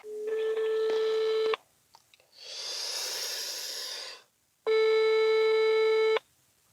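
Telephone line tones heard while calling someone: a steady electronic tone, a pause with a soft breathy hiss, then the tone again, all close and clear with no speech.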